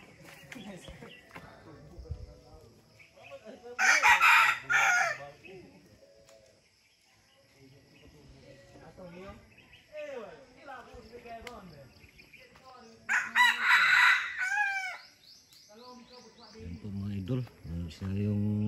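A rooster crows twice at home, each call a loud, bright stretched cry of about a second, spaced several seconds apart, with someone talking in between and other faint bird calls around.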